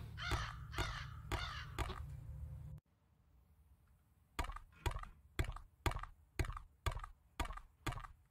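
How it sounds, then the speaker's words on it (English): Crows caw in the video game Sense: A Cyberpunk Ghost Story, first as a busy overlapping chorus, then after a brief hush as a steady series of about eight loud, evenly spaced caws close by. "Okay, so I can't get past these birds until I find some way to spook them."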